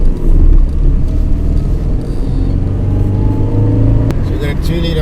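A Toyota Cressida with a 2-litre four-cylinder engine drives along, giving a steady low engine rumble and road noise heard from inside the car, with a short sharp click midway and people talking over it.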